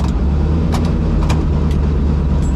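A drag race car roars loudly and steadily at close range during a street-legal drag racing week, a dense continuous engine and road rumble with no clear pass-by swell, and no talking over it.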